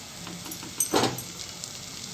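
A short burst of sizzling as a bread sandwich settles onto a hot tawa griddle, fading into a soft, steady hiss of toasting.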